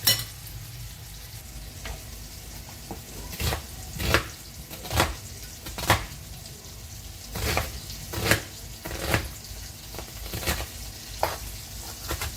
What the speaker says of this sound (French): Je vais couper mon oignon.